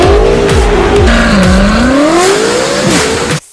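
A BMW M8 sports car roars loud and close, its engine revving and shifting through rising and falling pitch sweeps while the tires squeal, before cutting off abruptly at the end.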